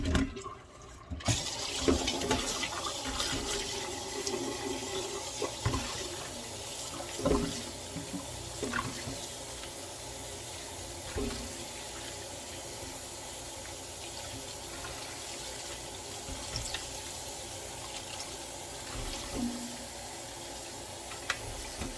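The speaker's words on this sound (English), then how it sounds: "It's like washing your greens, y'all." Dandelion greens being washed under running water in a sink, a steady, close rush of flowing water with occasional splashes and handling clatter, with no talking.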